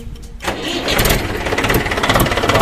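A tractor engine cranks and catches after a brief quiet moment, then settles into a loud, steady, throbbing run close by.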